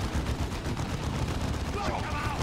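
Dense, continuous gunfire rattles through a Dawn of War II battle, rapid overlapping shots and bursts packed tightly together at close, loud range, with a voice briefly speaking over the din.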